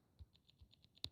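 Keyboard keys tapped in a quick run of light clicks, ending in one sharper, louder strike, set up to sound like an old typewriter; quiet and close, with no voices.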